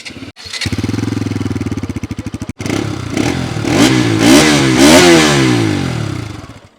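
A 2024 Bajaj Pulsar RS200 motorcycle engine starts with a cough, settles into a loud idle, then is revved up and down several times, the exhaust roaring close by.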